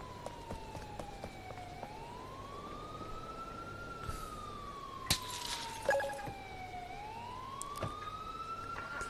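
A police car siren in the video game GTA 4 rises and falls in long smooth wails over a low engine drone, with a few sharp clicks and bumps mixed in and no talk.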